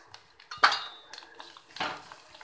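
Onion-coconut paste with spices being stirred in a pan, a sharp metallic clank of a spoon against the pan followed by softer scraping and a second clink, close and clear.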